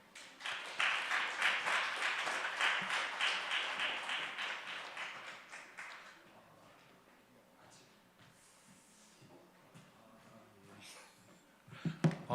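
A church congregation applauds loudly at a young adults' Sunday service, steady clapping for about six seconds that fades out, followed by quiet room noise and faint shuffling.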